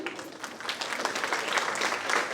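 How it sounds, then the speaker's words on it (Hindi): Brief applause from the audience at an International Women's Day event welcoming the chief guest, a dense patter of clapping at moderate, steady loudness. "जोरदार तालियां हो जाएं"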